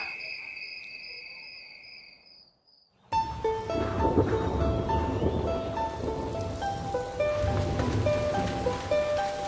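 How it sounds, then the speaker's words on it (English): Steady rain patters densely after a brief, quieter opening with high tones, while musical notes ring over the downpour. "It's a rainy day in Gitaivo."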